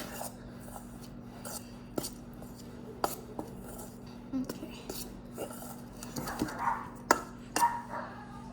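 Brownie batter with cocoa powder being mixed in a bowl, a spoon or whisk clinking and scraping against the sides in repeated sharp taps over a soft, steady stirring texture, close by with no talk.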